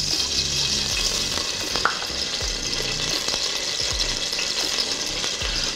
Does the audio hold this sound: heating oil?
yes